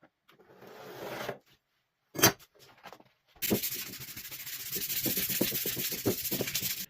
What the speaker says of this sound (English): Now I'm going to sand them.